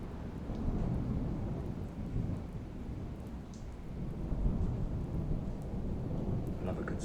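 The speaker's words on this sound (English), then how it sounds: "is that thunder?" Low rolling thunder rumbles at a distance through steady rain during a storm outside a cottage, swelling and fading in long waves, with faint patter on surfaces.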